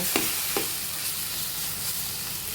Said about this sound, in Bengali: আমরা আর 1 থেকে 2 মিনিটের মতো এভাবে শাকটা নেড়ে চেড়ে নামিয়ে নেব